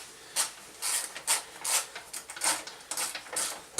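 Open-end wrench ratcheting in short, repeated strokes while tightening a bolt on a KTM Enduro 690 crash bar, a quiet, irregular series of metallic clicks and scrapes close by.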